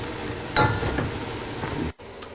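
Onions and a clove of garlic softening in butter and oil for French onion soup, a steady gentle sizzle with a couple of stirring knocks, close up, cutting out briefly near the end.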